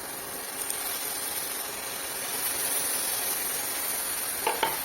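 Spice paste of chilli powder, Kashmiri chilli powder, coriander and cumin mixed with water hits hot oil, producing a soft, continuous sizzle and hiss with a couple of brief clinks near the end.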